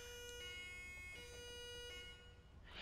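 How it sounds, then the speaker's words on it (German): A fire engine siren in a video game wails faintly and steadily in the background as a thin, distant electronic tone, with no talk and a brief rustle at the end. "Da werde ich wahrscheinlich nochmal die Sirenen austauschen."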